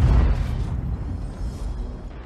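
A single artillery shot from the AMX 105 AM mle. 47 self-propelled gun in World of Tanks, a deep booming blast at the start that rolls off into a long low rumble, heard alone without talk.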